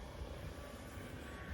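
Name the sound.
Dynam Hurricane RC model plane making a low pass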